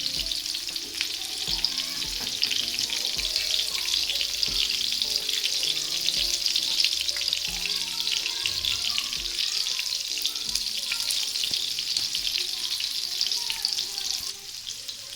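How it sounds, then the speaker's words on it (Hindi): Chicken chapli kababs frying in hot oil, a steady, dense crackling sizzle that holds for the whole stretch, close and moderately loud, with no talk. "ये भी हमारे कबाब अच्छे से फ्राई हो गए हैं।"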